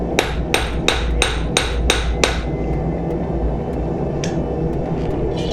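Hammer blows strike a hot metal billet while forging mokume-gane, about seven sharp, ringing impacts in quick steady rhythm, then a pause and one fainter strike over a constant low roar.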